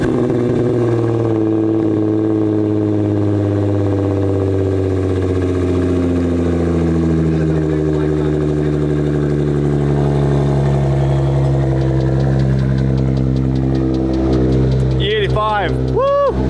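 Tuned high-horsepower car engine, turbocharged and running on E85 at about 1,200 horsepower, idling with a steady deep rumble that swells and revs throughout, loud and close, with voices talking over it near the end.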